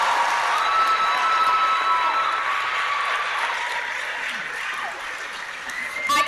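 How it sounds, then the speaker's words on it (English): A crowd at a high school pageant show applauds the gentlemen and their guests, a loud, sustained roar of clapping with some cheering mixed in, steady throughout before tapering slightly near the end. "How about one last round of applause for all these gentlemen and their stunning guests?"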